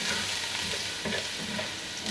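Garlic frying in a pan, a steady broadband sizzle with faint stirring scrapes throughout, close and continuous with no talking.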